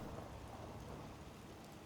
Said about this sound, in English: Oh, is it actually rainy?